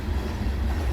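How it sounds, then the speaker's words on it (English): A train rolls past nearby in a steady low rumble, with dense rail noise holding throughout, heard from beside the track at a truck stop or roadside during a trucking run in Oregon. "That train is still going by."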